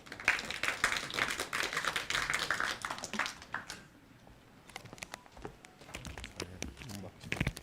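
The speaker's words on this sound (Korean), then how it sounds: "마지막 발표인 만큼 힘찬 박수로 맞이해 주시면은 감사하겠습니다" Audience applause at a project presentation event, dense clapping at first that thins out into scattered individual claps before picking up again toward the end.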